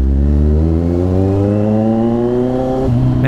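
Kawasaki Z1000 motorcycle fitted with an SC-Project 61mm exhaust revs loudly and close, its raspy engine note climbing steadily, dipping briefly, then rising again near the end.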